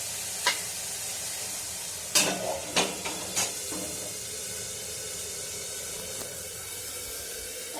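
Masala frying in a covered pan on a home stove, a steady soft sizzle and hiss throughout with a few sharp clinks and stirring knocks early on, no voices.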